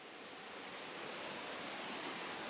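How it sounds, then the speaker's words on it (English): Steady broadband roar of a waterfall in Siquijor, Philippines, a continuous rushing wash heard alone, soft and even throughout. "We have made it to our second set of waterfalls for the day."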